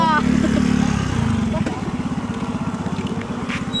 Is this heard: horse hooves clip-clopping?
no